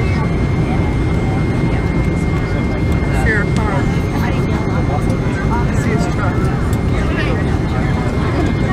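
Allegiant Airlines MD-80 airliner landing on runway 18 left, a steady loud roar of jet engines and rushing air heard from inside the cabin, with faint voices talking over the noise.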